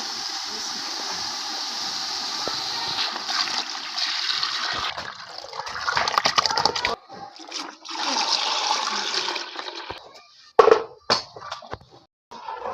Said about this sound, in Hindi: अब हम इसमें डालते हैं बेसन वाली लस्सी